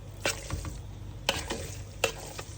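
Homemade tomato paste sizzles in a pot as it is sautéed, with a soft steady fry under a few sharp scrapes and knocks of a spoon against the pot.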